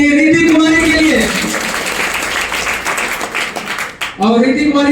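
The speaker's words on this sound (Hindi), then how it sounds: "मैं चाहूंगा जोरदार ताली होनी चाहिए रीति कुमारी के लिए।" A crowd at a Class 10 school farewell bursts into loud, sustained applause for a student, lasting about three seconds. Someone speaks into a microphone just before and just after.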